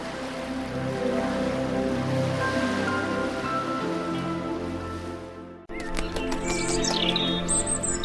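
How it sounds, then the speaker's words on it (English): Birds of every kind chirp in a children's Old Testament creation story. A broad wash like surf gives way abruptly to crisp, high, quick chirps and tweets near the end. "He also made birds of every kind."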